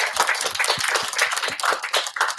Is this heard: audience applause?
yes